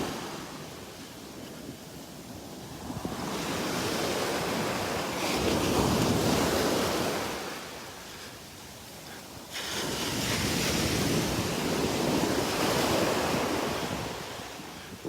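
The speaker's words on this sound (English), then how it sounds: "Waves seem to be getting a little bigger here." Ocean surf breaks on a beach at Delnor-Wiggins as the tide comes in, two broad swelling crashes rising and fading with steady wind rush on the microphone.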